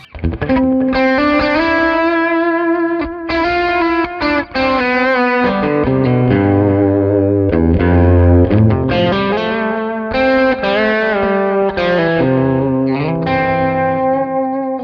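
A sustained electric guitar played through a delay pedal plays chord swells and melodic lines, with echoing repeats trailing each note, loud and continuous with no talking.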